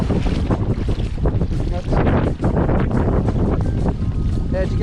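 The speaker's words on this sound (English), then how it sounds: "A bit too windy now. It's getting rougher out there" Strong wind buffets the microphone out on open water during a fishing trip from a small boat, a continuous loud roar with gusts and some splashing, while people talk faintly underneath.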